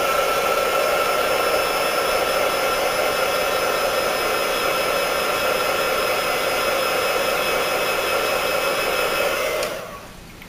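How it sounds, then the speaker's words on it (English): Heat gun warming up for curing liquid polymer clay, a constant loud whooshing airflow with a steady whine that runs unbroken for about ten seconds, then drops off sharply at the end, with no talk. "I'm going to heat my heat gun up off camera again."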